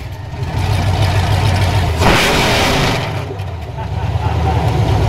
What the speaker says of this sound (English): I don't know why open headers make you smile